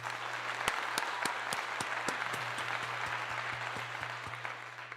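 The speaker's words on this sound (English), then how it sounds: "Round of applause for that." An audience applauds at a talk show, a steady wash of clapping with a few sharp, distinct claps standing out, beneath a low steady hum.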